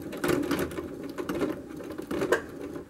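A sewing machine stitches a tab on a tulle skirt in three short whirring bursts of rapid needle clatter, close and clear, with pauses between runs and no talk.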